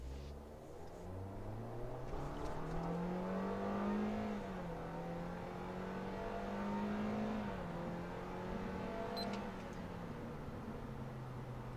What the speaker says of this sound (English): The engine noise upon acceleration definitely leaves a little bit to be desired.